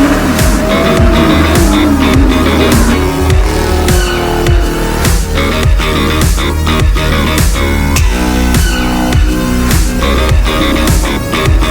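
A Porsche race car at speed during a 2023 Porsche Club Lithuania track event, a loud, sustained engine roar with rhythmic surges and tire squeal, with no talking.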